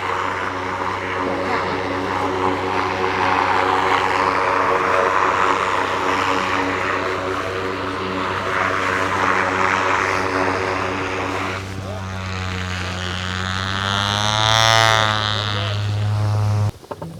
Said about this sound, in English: So we're heading to the helicopter.